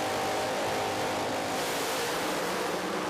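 Drag racing cars at the FIA NitrOlympx event rev their engines around 5,000 RPM, producing a dense, loud, steady roar that fills the whole clip without pause.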